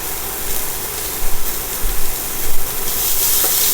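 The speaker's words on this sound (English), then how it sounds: "I done chopped up some shallots. We're going to saute in there." Chopped shallots sautéing in a pan used for sauce after cooking sirloin steak, a steady broadband sizzle with a few louder bursts of hissing and stirring midway, close and continuous.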